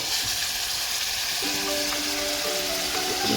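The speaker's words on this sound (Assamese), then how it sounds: "এতিয়া অলপ দেৰি ভাজিব লাগিব, চিকেনটো" Chicken pieces fry in a pan with spice paste for a Pahari chicken gravy, a steady dense sizzle and crackle throughout, with faint stirring scrapes.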